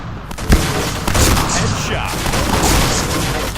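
Rapid gunfire from the online shooter Point Blank crackles in dense bursts with a sharp shot near the start and a steady loud backdrop of game noise.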